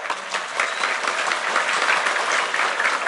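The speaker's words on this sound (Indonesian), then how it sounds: "Tepuk tangan untuk NU." Steady applause from an audience fills the clip, dense clapping at an even level from start to finish.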